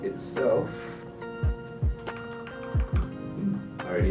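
Typing on a Leopold FC650MDS PD mechanical keyboard fresh from unboxing, a close, uneven run of keystroke clacks with a few heavier thocks, alone with a light background hum.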